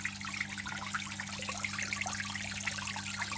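A Hydor internal aquarium filter runs lifted above the water, giving a steady low hum with continuous splashing, trickling water on top.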